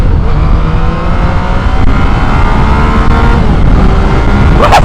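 A 2015 Yamaha MT-09 Tracer motorcycle accelerates hard in A mode, its engine rising in a loud, steady pitch climb heard close up from the rider's position, with strong wind rush.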